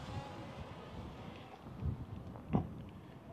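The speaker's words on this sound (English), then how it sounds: "It's very windy out here." Steady outdoor wind at a mine near Jerome, Arizona, buffeting the microphone, a low rumbling roar with a couple of louder gusts, no voices.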